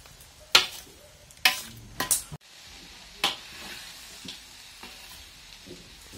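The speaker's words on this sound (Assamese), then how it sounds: "মছলাখিনি দিয়াৰ আগত অলপ সময় ভাজি ল'লোঁ" Coarsely ground spices fry in a hot pan, with a soft steady sizzle broken by several sharp stirring scrapes and clinks of a utensil against the pan early on, then quieter frying.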